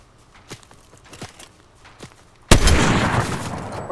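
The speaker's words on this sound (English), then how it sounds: "See them shooting." Gunfire in Fortnite: a few sharp, faint distant shots or steps ring out, then a loud burst of rapid fire erupts close by and keeps going.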